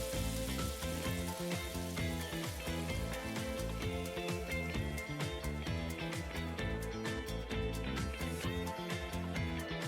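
Potatoes and spices frying with chopped tomato in a pan for Bengali chirer polao, a steady close sizzle running under sustained background music throughout, no talking.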